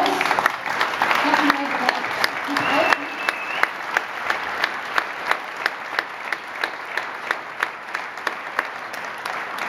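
Applause at an awards ceremony, beginning as a dense crowd clap under a voice, then thinning into distinct, evenly spaced claps from a smaller group.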